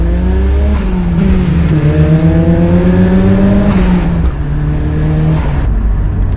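A car launching hard on a 0-60 acceleration run, its engine loud and close, revving up through rising gear sweeps with brief drops at each shift, continuous and unbroken by talk.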